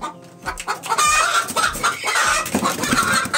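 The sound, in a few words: hens clucking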